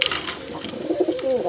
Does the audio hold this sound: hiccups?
no